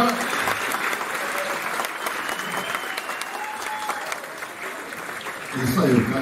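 An audience claps for a musician at a concert at Casa da Ópera in Ouro Preto during Festival Estrada Real, steady applause with a voice speaking over it and a louder swell near the end.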